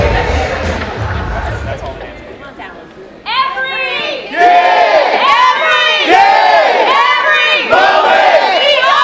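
Crowd at a school district convocation roll call erupts into loud, sustained shouting and cheering from many voices, swelling after a quieter opening stretch of murmur.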